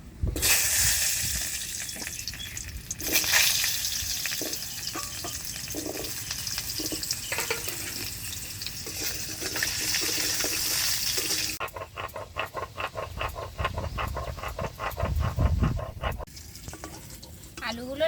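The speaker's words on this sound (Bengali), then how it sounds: "শুধু আলুগুলো ভাজতে বসিয়ে দিচ্ছি" Potatoes frying in a pan in a village kitchen, a steady sizzle and bubbling with occasional stirring clatter, while someone talks over it.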